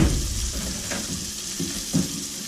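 A spatula scrapes browned pieces from the bottom of a sizzling pan, giving a continuous frying hiss with a few rough scraping strokes close by.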